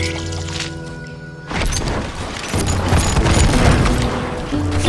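A heavy boom opens into a sustained barrage of gunshots in the Call of Juarez Gunslinger video game, loud and continuous with a roaring, crackling wash.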